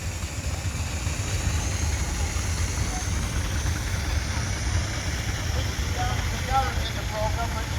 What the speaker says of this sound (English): Clive Ball with a Garrett traction engine.